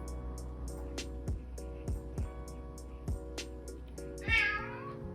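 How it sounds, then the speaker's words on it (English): A pet cat meows repeatedly close by in a quiet room, about a dozen short, clear calls in an uneven rhythm, ending with a louder, drawn-out cry. "there's my kitty"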